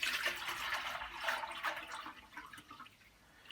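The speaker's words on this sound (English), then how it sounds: "I've got some nice hot water from the kitchen ready to go in." Hot water from the kitchen pours into an ultrasonic parts cleaner, a soft, close splashing that rises and falls and trails off near the end.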